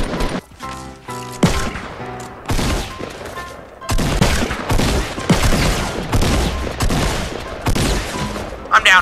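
Bursts of gunfire in the shooter game Fortnite, repeated volleys and rapid shots with heavy booms, loud and near, mixed with excited voices of players talking over the shooting.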